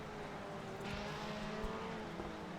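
Rally cars race on a NASA Rallycross course, their engines a distant, steady roar that swells briefly as a car passes, heard faintly in open air with no talking.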